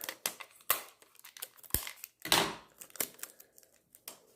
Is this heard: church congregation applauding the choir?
no